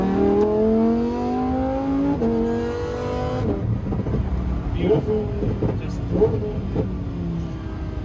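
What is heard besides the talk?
Lamborghini STO accelerating on the Nürburgring track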